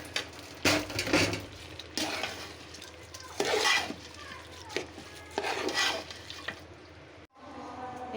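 Rice being stirred into a pot of fried meat for khichuri gives repeated scraping, rubbing strokes of a spoon against the pot, with faint sizzling in between, close and fairly loud.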